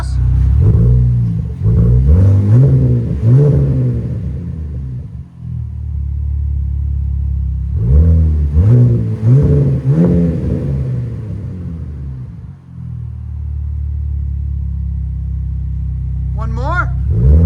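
A 2025 RAM RHO pickup with a 3.0L Hurricane inline-six and Vibrant 1795 exhaust revs twice, each deep rising roar climbing and falling back to a steady idle rumble, loud and close, with brief talk near the end.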